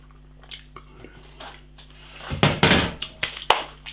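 Chewy mozzarella sticks dipped in chili are bitten and chewed close to the microphone, with soft wet squishing that grows busier and louder in the second half.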